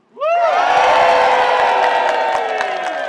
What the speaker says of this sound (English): let's hear a huge cheer for all of our fellow EU citizens here in Scotland and in Edinburgh